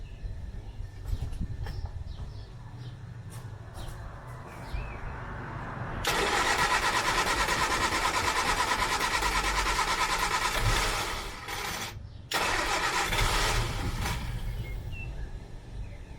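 A 1970s Austin Allegro car engine cranks in a few short bursts, then catches and runs loudly with a rough, busy roar, dips briefly, and fires up again; close and without talk.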